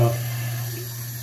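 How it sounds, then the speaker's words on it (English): Tap water runs steadily as a traditional wet-shaving brush is rinsed under it, a close, continuous splashing hiss that tapers slightly toward the end. "this is when I rinse my brush out"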